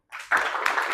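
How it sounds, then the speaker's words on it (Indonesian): A classroom of students bursts into applause, a dense wash of clapping that starts faintly then jumps louder and holds steady for under a second, close and without talk. "Silakan tepuk tangan."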